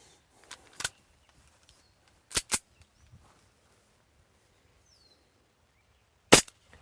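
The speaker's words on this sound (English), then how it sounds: "now that we're out here at the range, Barry, why don't you go ahead and send a few rounds down range and see how hot she's shooting with .2 biodegradable BBs" A WE Knighthawk gas blowback airsoft pistol fires .2 biodegradable BBs downrange, giving a few sharp, separate cracks spaced apart, including a quick double shot, against a quiet background.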